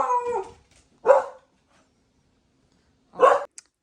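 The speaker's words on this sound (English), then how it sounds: "He was barking at my mom" A house dog barks indoors in a mobile home, a few sharp loud barks separated by pauses, the first blending into a brief howl-like yelp, with quiet room tone between.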